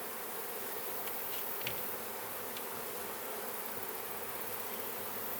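Honey bees buzz steadily around an opened hive during a honey harvest, a dense continuous drone with individual bees passing close now and then.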